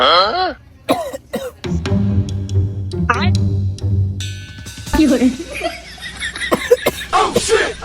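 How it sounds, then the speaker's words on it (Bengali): A man in a comic drama coughs in short, dry, tickly bursts, mixed with talking voices and snickering laughter close by. "খুসখুস করে কাশি হয়"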